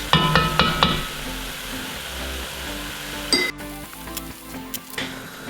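Browned beef for Flemish carbonnade in a pot as beer, brown sugar and broth are added, bright clinks at the start, then a steady sizzle and bubbling with scattered utensil taps.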